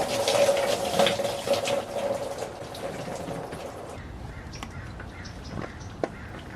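Coolant drains from a BMW M3 cooling system in a steady splashing stream for about four seconds, then tapers to a quieter trickle with scattered drips.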